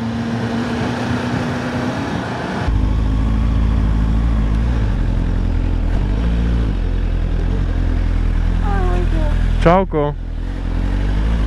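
A motorcycle engine idles at a petrol station, then rumbles louder and steadier as it revs, close and strong, with a brief spoken greeting over it.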